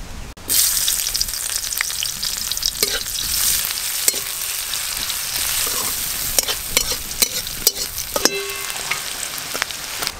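Chopped onion sizzles loudly in hot mustard oil in a wok while crab curry is being cooked, with a steady crackling fry and occasional sharp clinks and scrapes of stirring.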